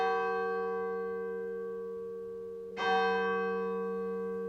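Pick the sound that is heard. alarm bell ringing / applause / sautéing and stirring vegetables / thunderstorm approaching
alarm bell ringing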